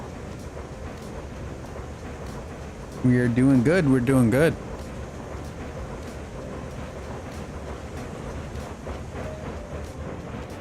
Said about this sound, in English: Now listen to that train purr.